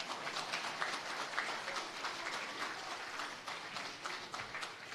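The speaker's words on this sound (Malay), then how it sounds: "Tepuk tangan lagi." A large crowd at a Perikatan Nasional political rally for its election manifesto launch applauds in a steady, dense wash of clapping heard from a distance at moderate volume, with no voice over it.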